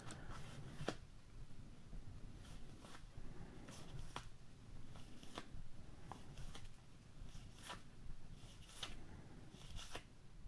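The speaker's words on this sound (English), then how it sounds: "We'll flip it over to the opposite side to see each of the different cards." Prototype board game action deck cards for an unboxing of ISS Vanguard by Awaken Realms are flipped one after another, making a series of soft, quiet card snaps over a low background hum.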